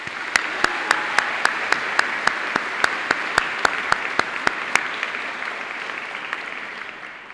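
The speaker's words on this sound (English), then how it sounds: "Let's give them a round of applause." Graduation ceremony crowd applauding steadily for several seconds, a dense wash of clapping with sharp individual claps standing out, slowly fading toward the end.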